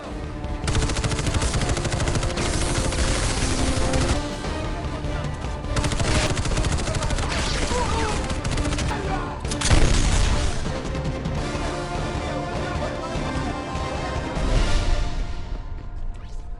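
A gunfight with pirates in The Expendables, with sustained bursts of automatic fire, single shots and crashing impacts layered over a dense film soundtrack, loud throughout.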